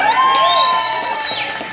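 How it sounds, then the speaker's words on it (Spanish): Loud nightclub crowd at a Halloween night, cheering and whooping with sustained tonal shouts and whistles over a busy background of claps and voices. "Aplausos para la muerte."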